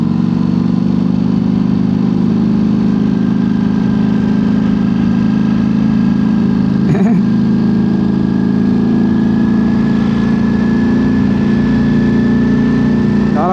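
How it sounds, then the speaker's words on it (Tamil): A motorbike engine runs steadily throughout, a loud, close, continuous low drone with a brief rev or knock near the middle. "புல்லட் மாதிரி போகுது வண்டி."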